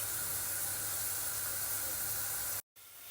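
Ground meat frying in a pan for pasta in red sauce, a steady close hiss and sizzle that holds evenly throughout, cut by a brief moment of silence near the end.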